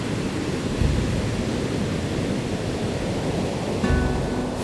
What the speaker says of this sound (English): But these waves are enormous, and I do feel like this is quite a dangerous spot.